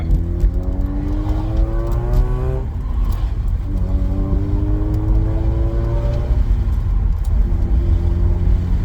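A Mazda RX8 rotary engine runs steadily while the car is driven, its hum climbing and dropping in pitch through gear changes, close and continuous with wind rumble underneath.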